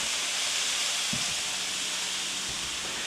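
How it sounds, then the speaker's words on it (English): Taco meat sears in a preheated pan, giving off a dense, continuous sizzling hiss that stays steady and close, with a couple of faint low knocks underneath. "We're going to give it a minute to get a little bit of sear on it"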